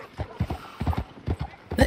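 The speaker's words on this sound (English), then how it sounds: "I'm riding my horse on a road" Horse hooves clip-clop along a road in the video game Red Dead Redemption 2, a close, rhythmic run of paired hoofbeats that repeats evenly throughout.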